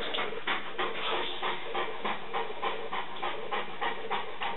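A female dog pants during a shiatsu session, a fast, steady rhythm of breathy huffs, close and continuous throughout, with no talking.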